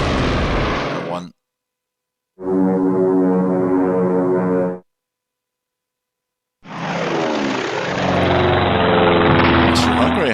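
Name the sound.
aircraft propeller engines in WWI strategy video game Strategic Command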